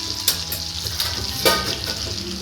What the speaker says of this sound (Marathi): आता यामध्ये आपल्याला 1 छोटा टेबलस्पून आहे ना, 1 लहान टेबलस्पून जिरं घालून घ्यायचं आहे